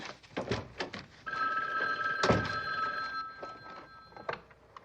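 An old-style telephone bell rings in a steady sustained trill indoors, loud and clear over faint background clatter and footsteps, in a classic television mystery scene.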